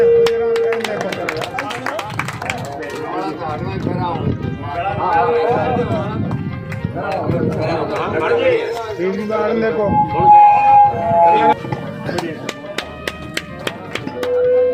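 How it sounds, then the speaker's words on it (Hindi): Crowd clapping at a headmaster's retirement ceremony in a village in India, steady rhythmic applause running throughout with voices and music mixed in. "तालियां बजती रहनी चाहिए"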